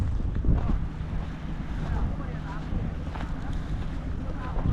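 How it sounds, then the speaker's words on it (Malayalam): Wind and surf at the spot where the Bharathapuzha river meets the sea, a steady roaring wash with heavy wind buffeting on the microphone throughout, loud and close. "ഭാരതപ്പുഴ കടലിൽ ചേരുന്ന ഒരു സ്ഥലമാണ് ഇത്."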